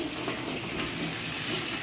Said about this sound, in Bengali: রসুনটা লাল লাল করে ভেজে নিচ্ছি